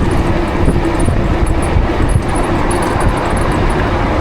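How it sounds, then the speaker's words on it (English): A bike ridden at full throttle, about 30 miles an hour, in heavy wind produces a loud, steady rushing roar of wind buffeting and motor drone, continuous and close throughout. "Heavy, heavy wind. Let's see how much we can get the bike up to. This is full throttle"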